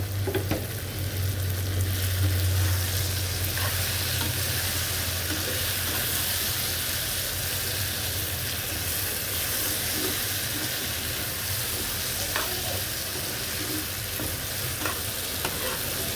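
Soaked paneer and mixed vegetables fry in a pan with a continuous loud sizzle and hiss, while faint utensil scrapes and knocks turn up now and then over a low hum.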